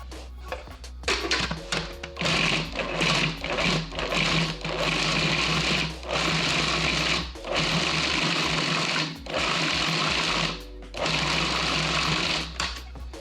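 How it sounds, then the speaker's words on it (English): An electric meat grinder whirs through rough-chopped beef in a series of loud, steady motor runs broken by short pauses, with no talking over it. "Then we'll do our beef, load it into our grinder."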